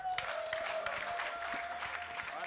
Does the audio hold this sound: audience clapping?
yes